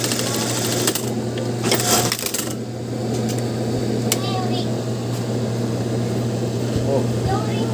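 A sewing machine under repair stitches a buttonhole with a steady mechanical whir and scattered clicks, close up, while people talk over it.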